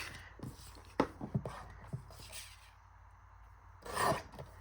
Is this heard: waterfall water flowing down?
no